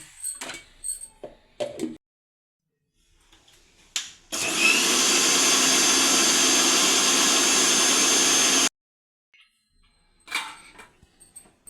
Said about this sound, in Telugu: ఇప్పుడు ఇది మిక్సీ పట్టుకోవాలండి